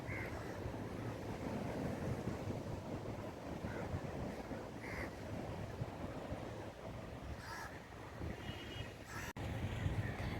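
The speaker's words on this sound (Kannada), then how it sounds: "ನೀರ್ದ ಸೌಂಡ್ಲ ಕೇನ್ಲೆ ನಿಕಲು" Water at a fishing harbour where boats land their catch: a faint, continuous wash of waves roughened by wind buffeting the microphone, with no voices.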